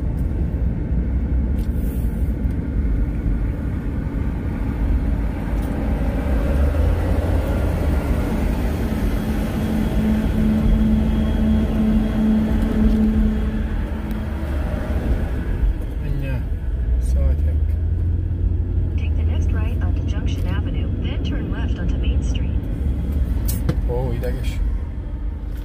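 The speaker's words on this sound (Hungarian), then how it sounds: "Nagy a forgalom." Dense heavy traffic rumble in Sturgis, a steady low roar of passing engines with a droning tone midway and scattered clicks later, continuous throughout with a voice talking over it.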